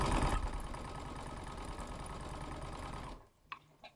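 Sewing machine stitching a quarter-inch patchwork seam, a rapid, steady close-up whirr and needle rattle running for about three seconds before stopping, followed by a few faint clicks.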